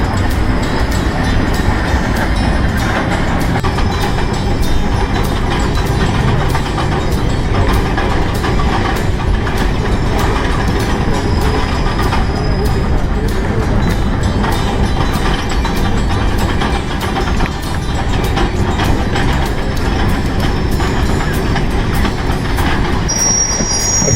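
Cass Scenic Railroad steam locomotives back a train down a mountain grade in West Virginia, a loud, constant rumble of rolling wagons with clicking wheels and occasional high squeals of wheels and brakes throughout.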